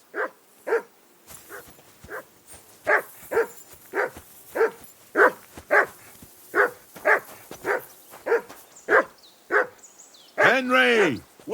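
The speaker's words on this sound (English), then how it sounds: "Whistle at that mutt of yours to stop barking!" A dog in the medieval action game Kingdom Come Deliverance II barks steadily and repeatedly, about a dozen and a half loud sharp barks at a regular rhythm, ending with a burst of louder noise.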